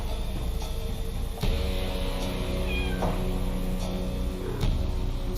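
A cat meows in the point-and-click adventure game Chaos on Deponia, a few thin mewing cries over a steady humming game soundtrack with faint clicks.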